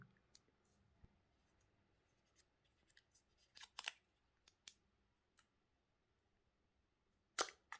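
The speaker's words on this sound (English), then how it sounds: "Now, let's open the device itself." Sparse, sharp clicks and snaps as OnePlus Nord 2T 5G smartphone box packaging is opened, scattered across quiet stretches, with a louder crisp crackle near the end.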